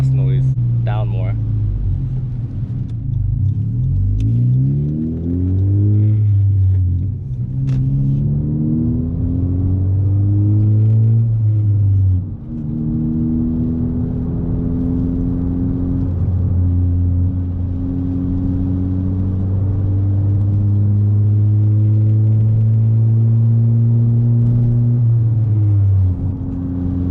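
A 10th-generation Honda Civic Si engine idles with a deep exhaust rumble, repeatedly blipped and revved up and down, the pitch rising and falling, with a voice talking over it.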